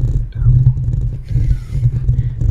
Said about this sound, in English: that's the sound of a dead box elder bug grinding against my microphone